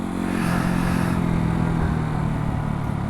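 Beta 125 RR enduro motorcycle, warmed up beforehand, revs steadily up close, a loud continuous two-stroke engine drone with buzzing harmonics and a brief rise near the start, with no talk.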